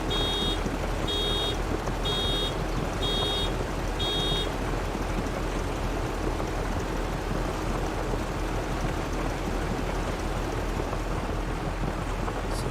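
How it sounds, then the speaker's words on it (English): A vehicle's reversing alarm in Farming Simulator 22 gives five evenly spaced high beeps over the first few seconds, then stops, above a constant loud rumbling engine drone that continues alone to the end. "Beep's a little bit longer there."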